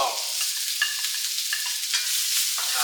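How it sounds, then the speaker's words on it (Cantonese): Yellow chives stir-fried quickly in a hot pan for a Cantonese prawn and egg dish, a loud, steady close sizzle with spatula scrapes and stirring strokes every half second or so. "又係快速煎炒一下韭黃"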